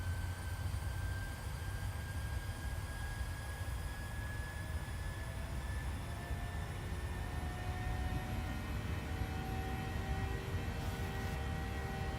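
Airliner engines hold a steady, droning roar during a climb to cruising altitude in a flight simulator game, with a continuous low rumble and thin whining tones, no talk over it.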